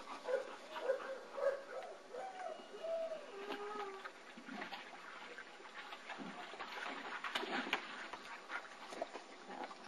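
German Shepherd puppies yip and whimper in short, high-pitched bursts, busiest at first, over faint splashing and background rustle.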